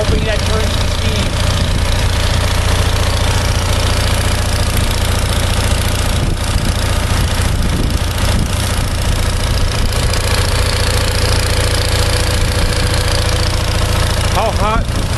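A homemade charcoal gasifier engine runs close by, a loud, steady, low rumbling idle with a slight knocking beat that continues unbroken throughout.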